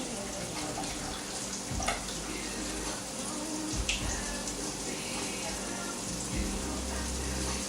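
Quiche egg mixture being poured from a container into a baking dish in a home kitchen, a soft, continuous liquid pour with faint clinks, quiet and close.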